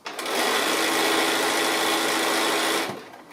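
A sewing machine runs in one steady, close, fairly loud burst of rapid stitching for nearly three seconds while sewing a fabric table runner, then stops, with no talking.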